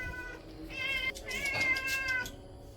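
A cat, newly arrived at a place in Coorg, gives a couple of close, drawn-out meows in quick succession, the second longer and rising, with faint ambient noise underneath.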